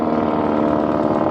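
Piston engine of a WWI-style triplane fitted with an American Warner radial, flying at an airshow display; a steady, loud droning hum runs throughout with no speech.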